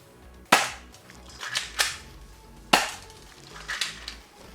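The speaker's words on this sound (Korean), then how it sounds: "그 다음에 방아쇠에 손가락을 넣고 원하는 위치에 사격." Toy Glock BB pistol firing BB pellets: several sharp, loud, close snapping shots at irregular intervals, two of them strongest, with quieter clacks between and no talk.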